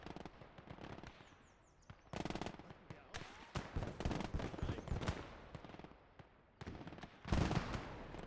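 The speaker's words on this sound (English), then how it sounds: "Oh, there was another explosion." Explosions and bursts of gunfire in the World War II strategy game Gates of Hell during a Stalingrad battle, a series of loud booms and rattling volleys coming in clusters, with quieter stretches between them.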